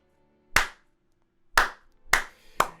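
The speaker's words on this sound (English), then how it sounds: "It starts with kind of like a trickle at first, but you get the slow clap" Four slow, loud claps ring out with long pauses between them, the last two coming a little closer together, each one crisp and echoing.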